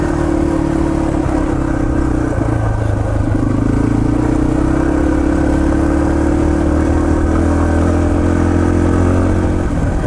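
A Yamaha TT-R230 dirt bike climbs uphill on a trail, its engine droning steadily and continuously at a constant, fairly loud level throughout, with no talking.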